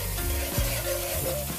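Gravy for smothered oxtails sizzles steadily in a pan while being stirred, a continuous close frying hiss with soft scraping sweeps of the utensil.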